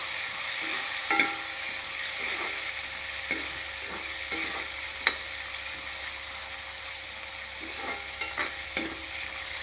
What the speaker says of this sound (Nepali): भटमास मजाले भुट्नुपर्छ।